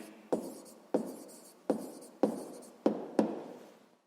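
A pen writes a maths answer on paper in six quiet, evenly spaced strokes, each a soft scratch that fades before the next.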